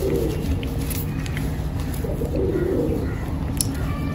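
Pigeons coo in soft, low, rolling phrases from close by, over a steady background hum.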